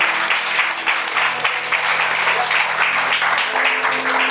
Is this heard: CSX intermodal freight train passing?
no